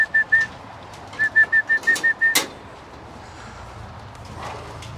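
A bird gives a quick run of repeated whistled notes, about eight short evenly spaced pips, followed by a sharp knock and then near silence with faint background noise.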